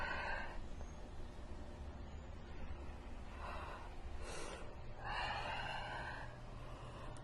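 Slow, deep breaths during a vinyasa yoga flow, soft airy inhales and exhales rising and fading in long swells, faint and close with no talking.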